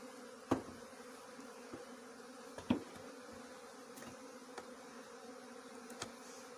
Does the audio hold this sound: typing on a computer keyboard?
no